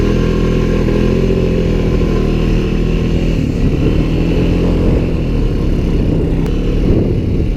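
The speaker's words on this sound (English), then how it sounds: "A beautiful day to ride ATVs." ATVs and side-by-side vehicles including a Honda Pioneer riding through snow, their engines droning loudly and continuously up close with shifting revs, no voices.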